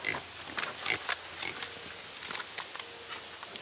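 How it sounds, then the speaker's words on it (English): Pigs eat a treat on a farm with close, messy crunching, chewing and rooting noises, broken by a few snuffling grunts. The noise comes in irregular bursts with no talk. "So let's see how the pigs like their treat."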